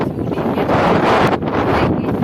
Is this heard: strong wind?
yes